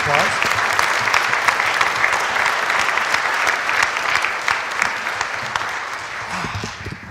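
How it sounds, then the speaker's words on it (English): Warm audience applause at a band concert, a dense, loud and even wash of many hands clapping that holds steady and tapers slightly at the end. "Would you give them another warm round of"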